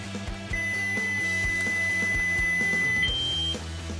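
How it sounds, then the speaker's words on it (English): A steady electronic beep tone from a NeoSabers Proffie lightsaber changing volume holds for a few seconds, then switches to a higher-pitched beep, over a low hum. "So you'll hear a different beep."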